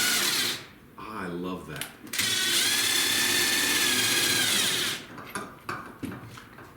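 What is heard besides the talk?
drill with socket raising A-frame trailer jack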